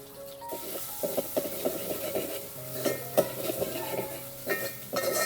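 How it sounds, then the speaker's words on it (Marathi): Finely chopped onion and green chillies, with ginger-garlic paste, fry in a pan while a spoon stirs and scrapes them, with irregular rubbing strokes over a soft sizzle. "कांदा चांगला असा लालसर कलर येईपर्यंत चांगला भाजून घ्यायचा"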